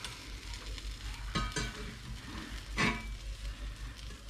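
A grilled cheese sandwich fries in a pan with cheese leaking out and crisping, giving a soft, steady sizzle broken by a couple of brief scraping stirs.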